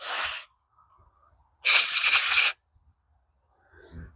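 Carburetor cleaner sprayed through the main jet of a Honda lawnmower carburetor, two loud hissing bursts, a short one then a longer one near the mic, with a faint clatter at the end.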